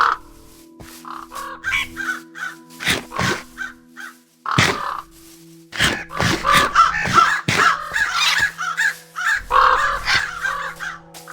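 A raven from a Minecraft Bedrock addon gives a series of harsh, croaking caws in irregular bursts, some single and some in quick runs, loud and close with short pauses between calls.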